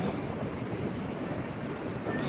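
Sea waves at Diveagar beach roll in as a steady, broadband wash of surf, loud and continuous with wind buffeting the microphone throughout.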